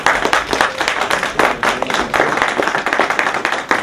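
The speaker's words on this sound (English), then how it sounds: "Another round of applause" An audience at the African Union Expo claps in a burst of dense, close applause that holds steady throughout.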